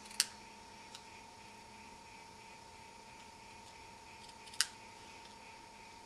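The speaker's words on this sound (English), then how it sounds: "And then I can just trim these little edges" Paper snips trim the small paper edges of a corner bookmark: two crisp, close cuts about four seconds apart, with a faint tick between them over a quiet room hiss.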